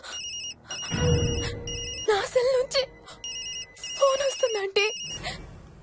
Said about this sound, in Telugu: నా సెల్ నుంచి ఫోన్ వస్తుందంటే